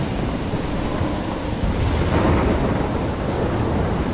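A thunderstorm in the video game Life is Strange roars as a loud, steady wash of rain and rumbling thunder with no break, and no voices over it.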